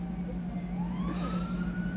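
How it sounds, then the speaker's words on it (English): Emergency sirens go off outside, a wailing tone that climbs steadily in pitch over a constant low hum, heard at moderate distance with no talking. "and then fucking sirens go off"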